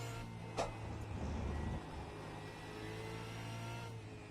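A Supercars-class race car in iRacing at Mexico City revs under throttle, a quiet, steady mid-pitched engine drone with a brief rise near the start, heard faintly and without talk.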